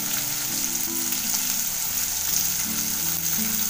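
Onion frying in a pan with a pinch of asafoetida for okra bhaji, a continuous close crackling sizzle with light stirring, under a droning low hum.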